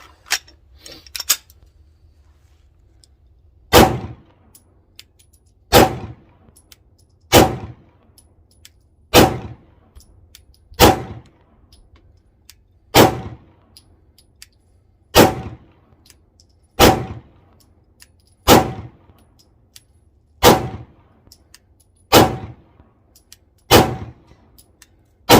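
A SAR9 handgun firing Fiocchi Range Dynamics rounds at an outdoor range: about a dozen sharp, loud shots at a steady pace of one every couple of seconds, each followed by a short echo.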